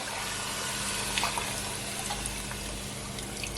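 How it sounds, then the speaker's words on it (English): Tap water pours steadily into a bowl for cooking pork ribs, a continuous close splashing rush of liquid with no talking. "So I'm gonna add at least 6 cups of water in there."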